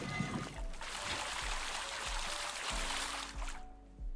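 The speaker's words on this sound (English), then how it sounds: "Squirting water." Water squirting in the video game Major Tom, a steady broadband rush of spray running continuously for about three and a half seconds before cutting off, with low thuds underneath.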